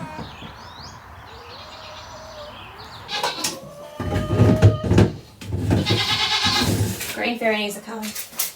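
Goats on an off-grid farm bleat in the first seconds, with birds calling behind them, before close, louder talk and handling sounds take over.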